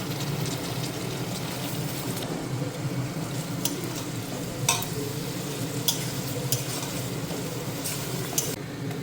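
Onion and fat frying in a pan with previously boiled mutton, giving a steady, close sizzle with occasional sharp clicks of stirring and no voices.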